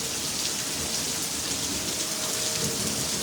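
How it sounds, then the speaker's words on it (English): Heavy rain pours down in a dense, steady hiss, a constant wash of falling water with no voices. "Now the rain's setting in."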